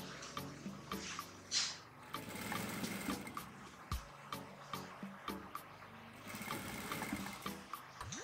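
A sewing machine runs in bursts while stitching a men's shirt, with a steady mechanical whir broken by brief pauses and sharp knocks, heard close and fairly quiet.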